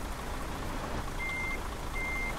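Reversing beeps from a truck in Euro Truck Simulator 2, two steady electronic tones sounding over a constant low engine rumble, fairly quiet and with no talk.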